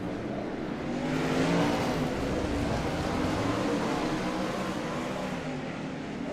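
410 winged sprint cars racing on a track, their engines a loud, sustained roar that swells as the pack passes close, with overlapping motors droning steadily throughout.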